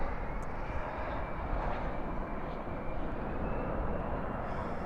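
Airbus A321 airliner landing at Dallas/Fort Worth International Airport at night, spoilers up and reversers out, its engines giving a continuous heavy rumbling roar at steady loudness throughout, without talk.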